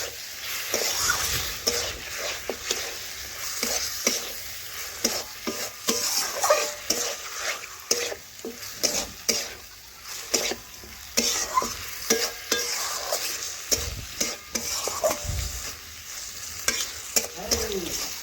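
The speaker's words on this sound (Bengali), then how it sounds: "এখন ভালোভাবে মশলার সাথে নাড়াচাড়া করে মিশিয়ে নেব।" Chicken marinated in lemon juice, salt and turmeric is stirred with spices in a frying pan, a loud continuous sizzle broken by repeated scraping spatula strokes close by.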